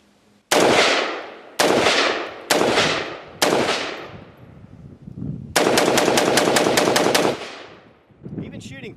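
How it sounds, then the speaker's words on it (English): A Cru Arms Temp 556 short-stroke piston rifle, an AR-180 style gun, fires outdoors: four loud single shots spaced about a second apart, then a rapid string of roughly ten shots, then one more report at the end. "Smooth shooting."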